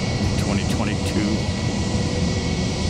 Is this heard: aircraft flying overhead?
yes